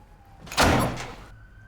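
A front door in a family home swings shut with a single solid thud and a brief rattle, loud and close, in an otherwise quiet room.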